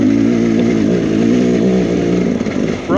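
A dirt bike engine revs hard and loud on a rocky off-road hill climb, a continuous rasping drone that wavers in pitch and then dips near the end.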